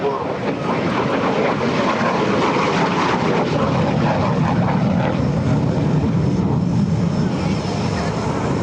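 A MiG-17 jet fighter flies a demonstration at an air show, its engine a loud, sustained roar that swells and shifts steadily as it passes, with an announcer's voice faintly underneath.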